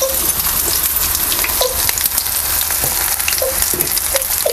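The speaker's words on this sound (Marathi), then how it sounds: "चांगलं असं सगळी बाजूने आहे ना आपल्याला तळून घ्यायचं." Pieces of bread frying in hot oil in a home kitchen, a steady close sizzle with brief pops and crackles throughout.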